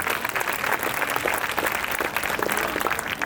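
Guests at an awards reception clap in a steady, dense round of applause that fills the whole stretch at an even level, with no voices standing out.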